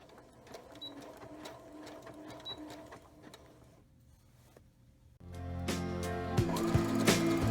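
A sewing machine stitches an apron skirt with crochet thread, first a quieter steady whir, then a pause and a louder, faster burst of stitching toward the end, near and alone.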